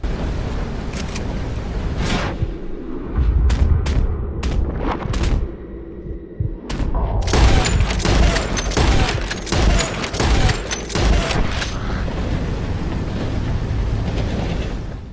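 Rifle shots fired at birds in the Red Dead Redemption 2 video game, with repeated sharp cracks in irregular bursts over a steady rumbling background of a moving train.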